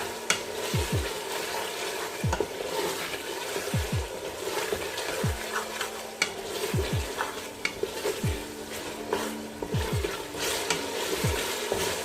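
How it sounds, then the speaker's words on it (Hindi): Chicken keema with a spoonful of yogurt sizzles steadily in a hot pan while a spoon scrapes through it in roughly a dozen quick, irregular strokes, the close frying hiss continuing underneath without any talking. "अच्छे से मिक्स करेंगे इसको। 1 से 2 मिनट जो है वो कुक करेंगे"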